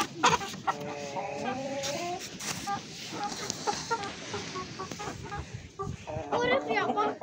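Newly housed chickens cluck and murmur in a new coop, with a few clear, close calls rising over a steady background of hen chatter, and a voice talking over them at times.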